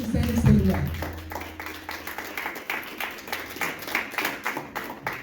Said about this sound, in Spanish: vamos a dar un fuerte aplauso a nuestro Dios